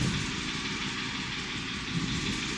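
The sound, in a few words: BMW 4 Series engine idling during Valvetronic adaptation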